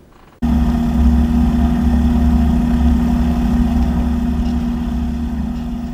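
A biplane engine starts up abruptly after a brief quiet moment, then settles into a steady, loud droning hum with a sustained tonal whine.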